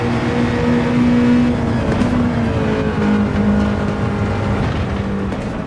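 A Nissan Fairlady Z tuned to about 840 brake horsepower roars in Gran Turismo 7, its engine holding a loud, sustained note with slight pitch shifts through gear changes, with no talking.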